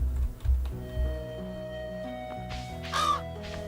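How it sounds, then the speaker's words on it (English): A crow in the farming video game Stardew Valley gives a couple of harsh caws near the end, preceded by soft thuds and a faint steady musical backdrop. "See that crow flying up there?"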